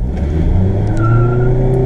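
Mazda MX5 accelerating hard in first gear on a damp road, a loud close engine note rising steadily in pitch with a brief tire chirp, no talking.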